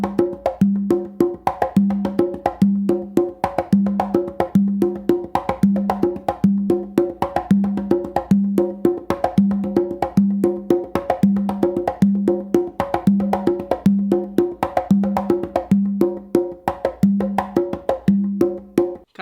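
Congas play a repeating pattern with the opening open tones shifted onto the lower tumba drum, giving a steady cycle of deep resonant opens and crisp slaps, close and unaccompanied.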